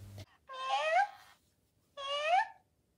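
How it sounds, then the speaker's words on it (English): A Little Live Cuddles electronic toy kitten gives two drawn-out, rising-and-falling synthetic meows for attention, each about half a second long and clear against near silence, after a brief knock at the start. "So I take it that that's the kitten asking for attention."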